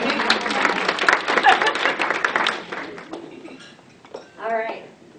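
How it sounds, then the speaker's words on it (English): An audience at a morning gathering claps in a dense burst that fades out over a few seconds, with faint clinks of dishes and cutlery in the room, followed by a person speaking briefly. "Oh, you guys can clap for Kelly"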